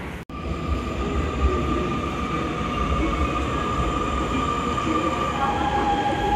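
A Nanjing metro train rides along with a steady, loud, continuous rumble and roar of wheels on rails, heard from inside the carriage throughout.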